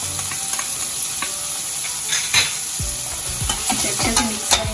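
Vegetables fry and sizzle in a pan on low heat with salt and chili flakes, while a spoon stirs and scrapes in steady strokes, making clear clinks and rustles over a constant hiss.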